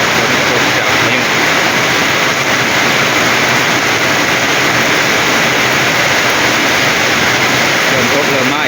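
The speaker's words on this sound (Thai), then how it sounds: "ฝนตกเริ่มมาอีกแล้วพี่น้องนี่" Heavy rain pours down during a June storm, a loud, constant roar of water that stays even and unbroken throughout with no distinct drops standing out.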